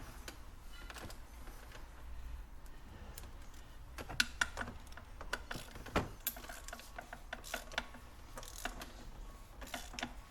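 A ratchet tightens an oil filter on a Ford Mondeo 2.5 during a workshop service, giving a run of small, close clicks and ticks over a low garage hum.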